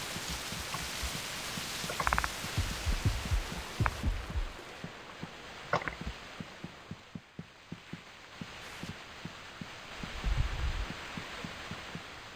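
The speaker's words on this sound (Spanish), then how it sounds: "es el portal del Nether." A throbbing ambient pulse from a Nether portal in modded Minecraft, heard as a steady series of faint, low heartbeat-like thuds with a soft hum and some rustling noise underneath.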